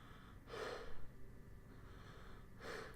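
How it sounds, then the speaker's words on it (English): A person breathes out through the mouth twice, soft breathy exhales spaced about two seconds apart, close to the microphone over a low background hum. "that's me breathing out of my mouth"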